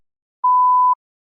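A single clear electronic beep marks the start of a timed spoken response on a TOEFL practice test, holding one steady pitch for about half a second against silence.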